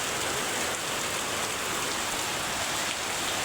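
Steady rain pouring down outdoors while rainwater is being collected, a dense continuous hiss of drops on surfaces with no voices, close and even throughout.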